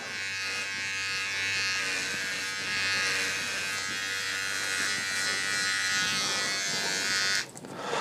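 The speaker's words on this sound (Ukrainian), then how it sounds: "я вже відчуваю, що бритва стриже дуже добре" Steady, loud electric buzz of a VGR V-082 hair trimmer cutting hair, running continuously for several seconds with a slight change in tone near the end as the blade shifts against the hair.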